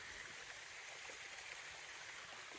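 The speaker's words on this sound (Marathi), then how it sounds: "हा साईडने जो ओढा जातोय" Steady rushing water flows continuously, a broad hiss like a village stream running beside a temple, with no voices and no pauses.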